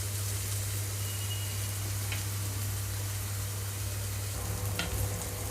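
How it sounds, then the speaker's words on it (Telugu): Ridge gourd pieces fry in a pan over a low flame, giving a soft, continuous sizzle with a faint low hum beneath it and an occasional small crackle or clink near the end. "ఇంకొక 2-3 నిమిషాల పాటు ఇలాగే ఉంచి వేయించుకుంటున్నాను."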